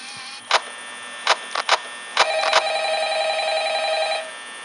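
A telephone rings in the horror video game Five Nights at Freddy's, preceded by several sharp clicks, then one sustained electronic ring tone lasting about two seconds.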